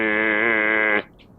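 A voice imitates a race car engine just after it passes, holding one steady, buzzy tone for about a second before it cuts off abruptly, close and loud and standing alone.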